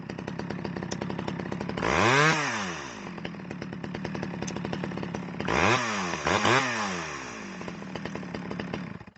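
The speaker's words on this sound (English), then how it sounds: "I'm going to rev it up" A Stihl 011AV chainsaw idles steadily, then revs hard three times, the first rev long and the later two in quick succession, its whine rising and falling close by with no talk.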